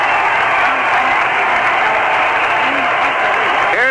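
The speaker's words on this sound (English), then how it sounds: "listen to the cheer" A baseball crowd at a 1969 Cincinnati Reds versus Montreal Expos game applauds and cheers steadily as the Expos take the field, a dense, loud wash of clapping with faint calls and whistles rising through it.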